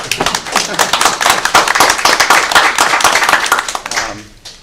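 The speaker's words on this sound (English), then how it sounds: "I think we should have a round of applause for him." Indoor applause at a board of trustees meeting: a modest group claps steadily and close for about four seconds before the clapping thins out and fades, with a few voices murmuring underneath.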